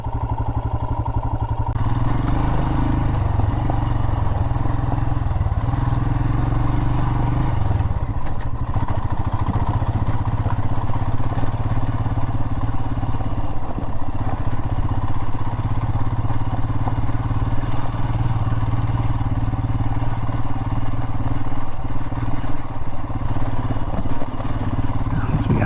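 Royal Enfield motorcycle riding across rocky basalt desert terrain, its engine a steady mid-pitched thump throughout, close and loud, with rattling clatter and wind, and a shift in engine note after the first few seconds; no voices.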